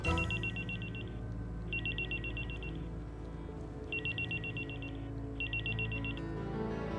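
A telephone rings in two-burst electronic trills, repeating four times at a steady pace over a busy, noisy background with music or ambience, fairly loud and close.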